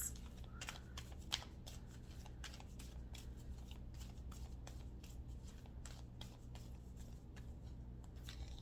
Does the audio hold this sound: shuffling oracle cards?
yes